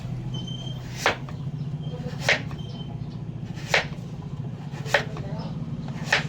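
A knife chops vegetables on a cutting board in five sharp, evenly spaced strokes about a second apart, set against a steady low background hum.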